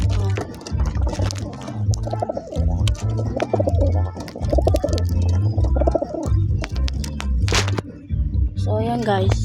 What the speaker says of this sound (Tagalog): ito rin Macho, pinakamabait na ibon natin